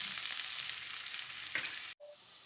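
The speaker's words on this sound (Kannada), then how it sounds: "ನೆಕ್ಸ್ಟ್ ಇವಾಗ ನೀರುಳ್ಳಿ ಹಾಕ್ತೀನಿ ಸ್ವಲ್ಪ ಫ್ರೈ ಆಗಲಿ" Onions frying in a pan with chana dal, mustard seeds and cumin, giving a steady close sizzle that cuts off abruptly near the end.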